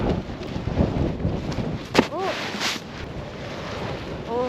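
Strong winter wind buffets a snowy mountain campsite at Seonjaryeong on the Baekdudaegan ridge, a gusty broadband roar against the microphone with a few brief vocal sounds over it.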